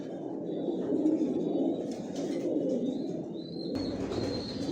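Pigeons coo in a steady, low, rolling murmur inside a rooftop loft of quality breeding birds, with many overlapping calls blending into one continuous drone at moderate volume.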